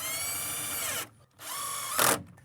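A power drill drives wide head screws into a roof. It makes two close, loud whining runs of about a second each, separated by a short pause, and no one talks.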